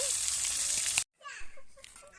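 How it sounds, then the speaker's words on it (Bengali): Onion, garlic and a cumin-coriander paste hit hot oil left from frying fish, giving a loud, bright sizzle that cuts off abruptly, followed by quieter crackling and bubbling. "মাছ ভাজা তেলের মধ্যে পেঁয়াজ রসুন আর জিরা ধনিয়া বাটা দিয়ে দিলাম"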